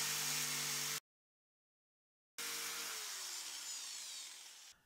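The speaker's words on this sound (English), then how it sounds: "Now I can cut around with my jigsaw." An electric jigsaw cuts through an old wooden skateboard deck, a loud close buzzing drone that stops abruptly, falls silent, then restarts and gradually winds down in pitch as the motor slows.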